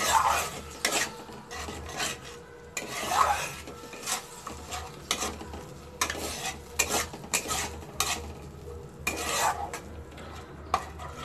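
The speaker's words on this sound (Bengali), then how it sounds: "একদম অল্প জল দিয়ে ভালোভাবে মিশিয়ে নিয়ে আবার কষতে হবে।" Spiced masala for Bengali-style dum aloo being stirred and fried in a pan, a spatula scraping in repeated rasping strokes over a soft sizzle, close and fairly loud, with no speech.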